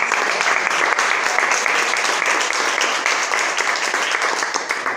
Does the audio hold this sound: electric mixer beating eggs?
no